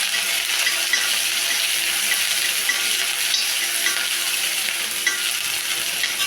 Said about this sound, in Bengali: পেঁয়াজটাকে বেশি ভাজা করবো না, হালকা করে লাল করে ভাজা করে নেব।